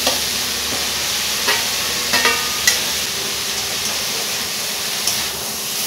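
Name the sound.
greens and fried eggplant frying together in a pan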